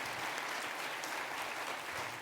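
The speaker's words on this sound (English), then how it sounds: "you deserve a round of applause for that" Steady crowd applause in a university auditorium during a state of the university address, a thick continuous clapping texture at moderate level, unbroken for its short length.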